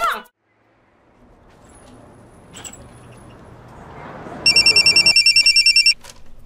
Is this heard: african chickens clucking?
no